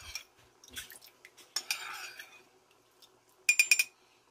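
A utensil stirs a mixture of soy sauce and brown sugar in a small bowl, giving light scrapes and clinks followed by a quick burst of sharp taps against the side.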